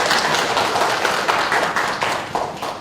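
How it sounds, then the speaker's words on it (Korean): An audience at a company quality-competition presentation applauds the Gaon Nori team, a dense, steady clapping from a crowd that holds for the whole moment and fades slightly toward the end. "가온놀이 파트에게 큰 박수 부탁드립니다"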